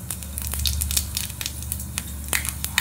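Panch phoron spices crackling in hot white oil in a kadai, giving a short burst of scattered pops and light sizzling close up, with no voices.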